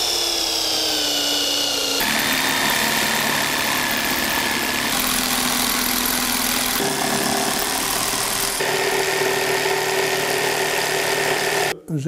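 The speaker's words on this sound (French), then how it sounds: "ensuite la scie sauteuse pour découper" A jigsaw cuts through wooden pieces for a palaver chair, a loud continuous buzzing rasp that shifts pitch in several stages as the cut progresses, then cuts off abruptly at the end.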